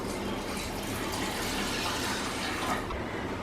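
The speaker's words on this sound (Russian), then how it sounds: "Наливаю в кастрюлю" Water pours steadily into a pot for cooking long-grain white rice, a continuous rushing splash with no pauses, close by.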